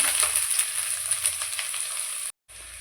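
Medium-sized chopped onion dropped into about two spoons of hot oil, giving a steady close sizzle and crackle that holds evenly before cutting out abruptly near the end, with no one speaking.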